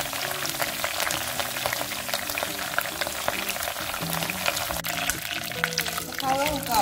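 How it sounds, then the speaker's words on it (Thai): Holy basil leaves deep-fry in hot oil over medium heat, giving off a dense, continuous crackling sizzle with bursts of bubbling throughout, and a voice is faintly heard beneath it. "เรามาทอดใบกะเพรากันเลยนะจ๊ะ"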